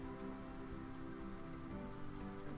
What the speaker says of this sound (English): did you notice it was starting to rain?